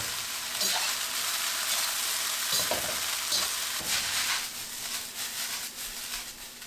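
Shrimp and sausage fried rice sizzles steadily in a hot pan, a constant bright crackle with occasional louder stirring scrapes and tosses, close and without talking.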